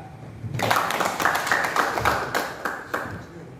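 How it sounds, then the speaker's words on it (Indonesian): A crowd claps steadily for a few seconds, dense applause starting abruptly and holding at an even level. "Mari kita tepukan."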